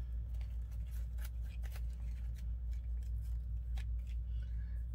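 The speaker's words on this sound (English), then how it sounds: "cut these apart" Scissors snipping apart craft pieces for a Dollar Tree faux blueberry pie project, a series of short crisp cuts at irregular intervals, close but fairly quiet over a low steady hum.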